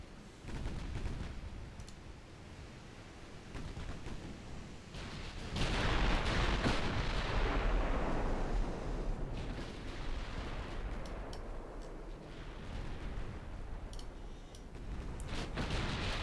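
Warship casemate guns fire broadsides in a naval battle game, producing a long, dense rumble of heavy booming blasts that swells midway and then rolls on continuously.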